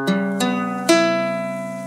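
Ukulele strummed while out of tune, three quick strums ringing with sour, clashing harmonics that sustain and slowly fade, close and alone with no voices.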